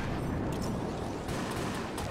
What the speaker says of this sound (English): The Big Boy knocks you back from the center of the explosion.